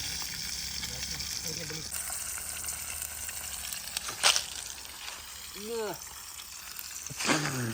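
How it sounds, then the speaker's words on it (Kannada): Fish frying in a pan, a steady broadband sizzle running throughout, with a few louder crackles and spatters and some brief voice-like sounds over it. "ಮೀನು ಫ್ರೈ ಆಗುಂಡು"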